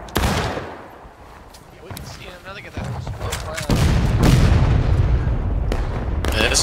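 Volleys of musket gunfire in the Outskirts War of Brothers battle game, sharp reports and rolling booms building into a dense, loud barrage toward the end, with voices talking over the firing.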